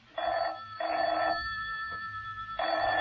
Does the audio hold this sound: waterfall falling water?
no